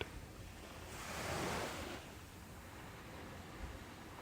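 Ocean waves wash in steadily with a swell of surf peaking around the middle before settling back to a soft, continuous roar, with no voices.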